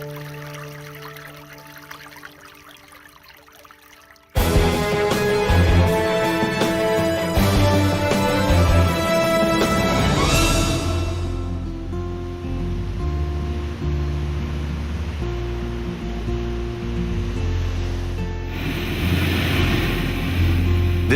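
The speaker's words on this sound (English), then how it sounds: "Here, Mughsal spurts salty seawater from hollows." Salty seawater bursts from rocky hollows at Mughsal, Oman: a sudden loud whoosh followed by sustained rushing and splashing, under a steady musical backdrop.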